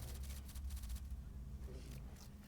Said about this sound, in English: What are those typewriter noises?